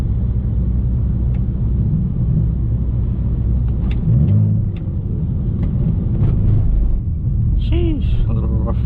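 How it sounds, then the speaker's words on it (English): A BMW 335xi with a six-speed manual and over 600 all-wheel horsepower rolls across a rough patch of road, giving steady loud low rumble with scattered thumps and rattles, and someone talks briefly over it. "Sheesh, a little rough patch on the ground."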